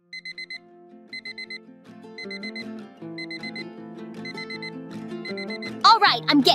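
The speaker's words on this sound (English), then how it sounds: "I hear that alarm clock." An alarm clock rings with repeated short bursts of high, rapid beeping, evenly spaced, under a backdrop of tonal background music, before a louder jumble of noise closes the stretch.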